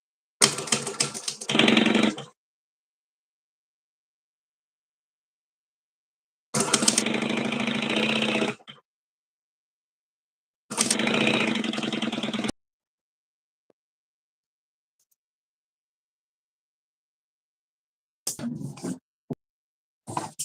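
A sewing machine stitches fabric in three runs of about two seconds each with silent pauses between, then a few short stuttering bursts at the end. No one speaks.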